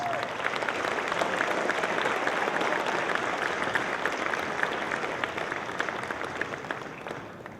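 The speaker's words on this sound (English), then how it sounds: "Let's give them all another well-earned round of applause." Banquet audience applauding inductees at a college Hall of Champions ceremony, a dense steady roll of many hands clapping at once that holds evenly throughout and tapers slightly near the end.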